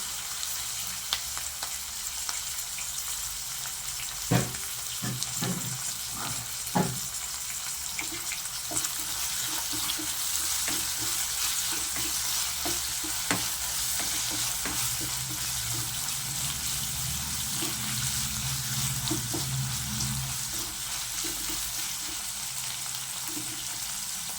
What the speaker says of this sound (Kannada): ನೋಡಿ ಈರುಳ್ಳಿ ಫ್ರೈ ಆಗ್ತಾ ಇದೆ ಅದಕ್ಕೆ ಬೆಳ್ಳುಳ್ಳಿ ಮತ್ತೆ ಶುಂಠಿ ಹಾಕೊಳ್ಳೋಣ